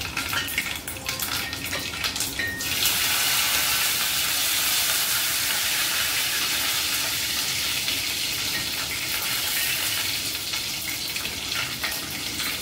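Curry leaves dropped into hot oil for tempering with mustard seeds and cumin, a sudden loud, dense hissing sizzle that bursts up and then holds steady and close for several seconds, no voices.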